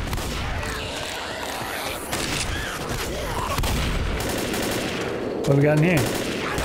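Shotgun blasts from a Left 4 Dead game fire repeatedly amid loud game action, with someone talking over them.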